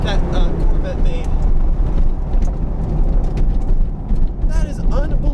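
A vintage Chevrolet Corvette ZR1 with an LT5 engine accelerates hard in a drag race, a loud, dense roar with rising whines toward the end.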